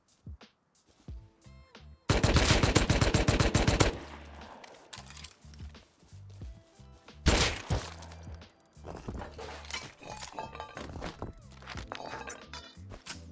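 Bursts of gunfire in the survival game Rust, a loud dense volley around two seconds in, then scattered shots and sharp impacts with footsteps, with another heavy burst near seven seconds.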